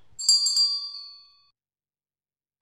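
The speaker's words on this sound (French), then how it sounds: "abonnez-vous et cliquez sur la cloche" A single bright bell ding rings out and fades smoothly over about a second, followed by silence.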